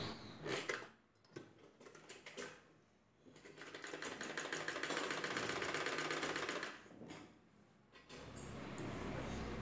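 A sewing machine stitches a fabric piece onto the top of an umbrella. It whirs in rapid ticking bursts with short stops and restarts, close and fairly quiet, with no speech.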